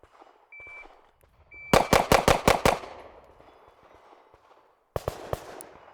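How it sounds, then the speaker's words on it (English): A Glock pistol fired at a target on a range, a quick burst of five sharp, loud shots followed by a pause and then three more close together, with no talking. "I just shot the Glock a couple times, got used to that grip angle"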